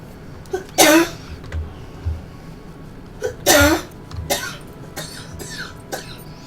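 A woman fighting a chest cold coughs in two harsh, heavy bursts a few seconds apart, with smaller throaty sounds and quieter breaths between them, close and otherwise quiet.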